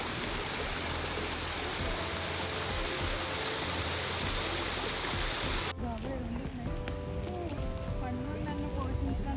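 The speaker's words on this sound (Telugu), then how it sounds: "ఇట్లా లేక్ చిన్న చిన్న వాటర్ ఫాల్స్ నుండి వచ్చే సౌండ్ చాలా సూదింగ్గా అనిపిస్తుంది కదా" Water from small waterfalls at a lake in a UK park in autumn rushes in a loud, steady, continuous wash that eases slightly partway through.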